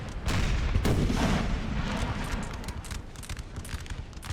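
Cannon fire from artillery on a hill in a video game: a heavy boom is followed by a string of further shots and rumbling that fade into scattered, sharper cracks.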